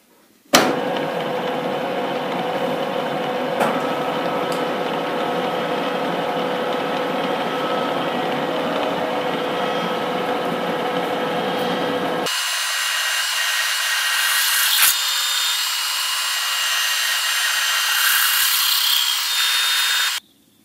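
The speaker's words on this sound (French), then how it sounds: "Perçage maintenant d'un trou diamètre 19." Steady, loud drilling of a 19 mm diameter hole with a continuous motor whine and cutting noise, sharply shifting to a higher, thinner pitch partway through as the bit breaks through, heard alone.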